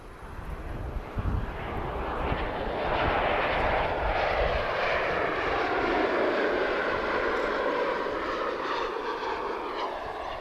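A TAP Express Embraer jet arriving at Lisbon from Seville builds from a low rumble into a loud, sustained engine roar with a sweeping whine that shifts in pitch as it passes nearby, with no voices.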